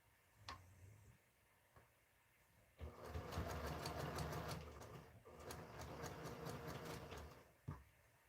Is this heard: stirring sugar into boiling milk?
no